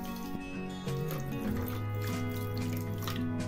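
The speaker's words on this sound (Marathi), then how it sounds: "आता पाणी साखर बुडेल एवढंच पाणी टाकायचं आहे।" Water is poured into a pan holding a quarter kilo of sugar to make syrup for chirote, a close, gentle liquid trickle and splash lasting a few seconds over a faint tonal background hum.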